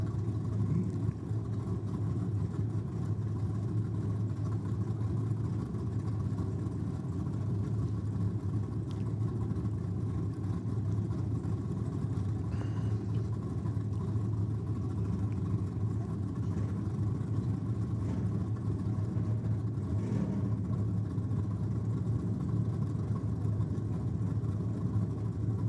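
Drag racing between a Ford Capri and a Camaro at a drag strip: a steady, loud engine rumble with a low drone runs unbroken throughout, with no clear launch or rev surges standing out.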